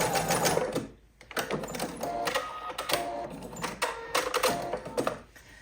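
A sewing machine stitches fabric in bursts of rapid mechanical clatter, pausing briefly and then running on in quick repeated runs, close and loud.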